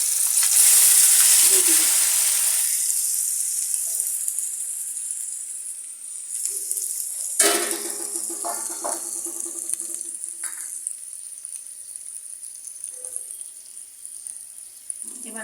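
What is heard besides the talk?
marinated snakehead fish added to hot pan, frying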